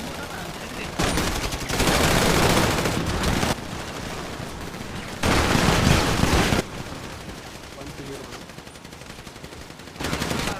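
Automatic gunfire in a police-chase shooter game crackles in three loud bursts of rapid shots, separated by quieter stretches of game ambience.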